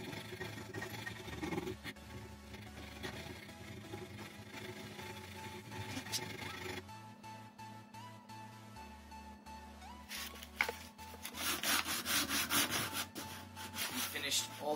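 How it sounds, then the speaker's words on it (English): Sandpaper rubs back and forth along a wooden crossbow stock, close and fairly quiet, with irregular scratchy strokes that grow busier and brighter toward the end. "We finished all the sanding for the whole body of the crossbow."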